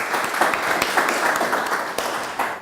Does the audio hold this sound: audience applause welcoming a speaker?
yes